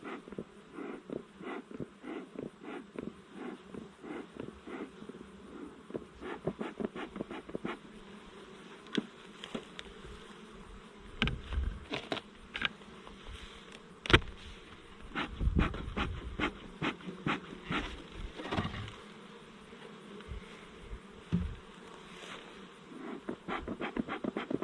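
Honeybees drone and buzz around two opened, smoked beehives, a steady hum with individual bees flying close past and louder in bursts, with handling noises during the hive inspection.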